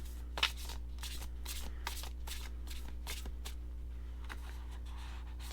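Oracle cards being shuffled by hand in a quiet room, a rapid series of crisp riffling card flicks repeating steadily against a low background hum.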